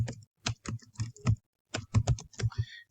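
Typing on a computer keyboard in two quick bursts of close, crisp key clicks separated by a short pause, with no voice.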